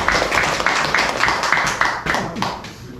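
Audience clapping at a health lecture for seniors, a burst of uneven hand claps building into rhythmic, fairly close applause, with a voice talking over it.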